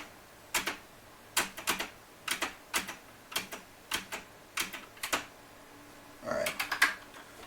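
Computer keyboard spacebar presses click in a series of crisp, close taps, some in quick pairs, with a short burst of rapid clacking near the end.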